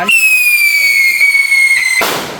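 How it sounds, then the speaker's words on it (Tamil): A loud whistling Diwali firework shrieks for about two seconds, its pitch sliding slightly down, then ends in a sharp crackling burst. "இந்த வெடிக்கு பிறகு ஒரு வெடி ஃபினிஷிங்காக வெடிக்க விட போகிறோம்"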